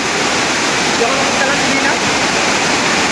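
Floodwater rushing during a heavy storm, a loud continuous roar of churning water filling the whole short stretch, close and steady without letup.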